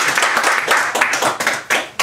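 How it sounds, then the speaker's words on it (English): A small gathering at a chess shop applauds a welcomed guest with close, loud, slightly uneven claps that start dense and thin out toward a few separate sharp claps at the end. "So let's give him a round of applause."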